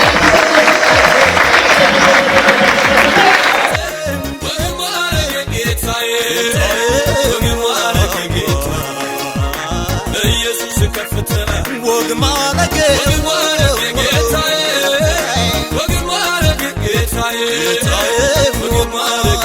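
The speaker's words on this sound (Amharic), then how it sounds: "አጨብጭቡላችሁ ለአባቶቻችን።" An audience at a church gathering claps in honour of the fathers: dense, loud applause for about three and a half seconds, then the applause gives way to steady music that carries on to the end.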